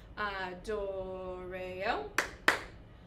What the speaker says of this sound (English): So we're gonna add those two claps in there.